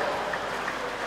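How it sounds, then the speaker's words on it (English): Brief burst of crowd applause at a New Zealand short course swimming championship pool, steady clapping from a large audience celebrating a national record, with no talking over it. "Let's give her a big round of applause."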